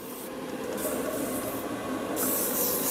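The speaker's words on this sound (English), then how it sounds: "spray down my hands." Spray bottle misting a person's hands in a mushroom grow setup: several short hissing bursts, fairly close, over a quiet steady background.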